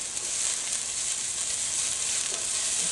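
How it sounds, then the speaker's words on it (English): Steady, loud sizzling of sliced onions frying in hot olive oil in a pan, a continuous bright crackle close up with no pauses. "Some sliced onions in our hot pan with olive oil."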